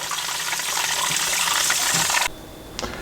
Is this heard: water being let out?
yes